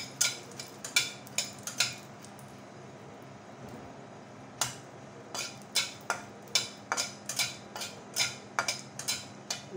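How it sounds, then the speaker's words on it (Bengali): Dried red chillies fry in a little oil in a pan, giving off irregular sharp crackles and pops, sparse at first and then coming in quicker bursts. "দিয়ে দেবো কয়েকটা শুকনো মরিচ, দিয়ে দেবো একটু তেল। মরিচটা আমি লাল লাল করে ভেজে নেব।"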